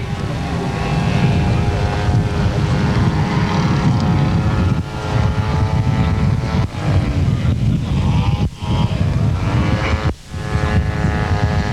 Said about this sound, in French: ce Mauboussin qui pénètre à grand-peine dans la bise lorsque son moteur est au ralenti.